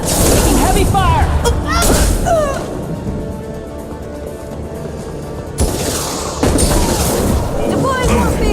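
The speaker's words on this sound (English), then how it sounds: "Taking heavy fire." Heavy gunfire and booming blasts ring out in a Mass Effect 2 battle, with dense bursts of shots around character voices, easing briefly mid-scene before loud impacts return.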